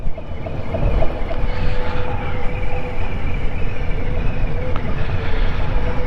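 A Harley-Davidson Street Bob 114 motorcycle idles at a low speed, under 1,000 rpm, with a steady, deep rumbling throb that holds close and loud throughout.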